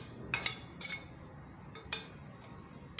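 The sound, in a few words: vessel of candle wax set into boiling water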